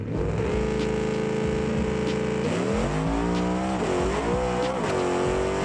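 A drag car in the BeamNG video game launching off the line on nitrous, loud engine revving high, then climbing through sharp gear changes with falling and rising pitch, alone and without talk.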